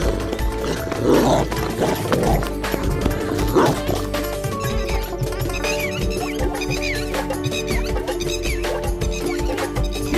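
A dog barks in short repeated bursts during a chase in an animated Hindi story, the barks loud and near early on, then giving way to busy music and effects.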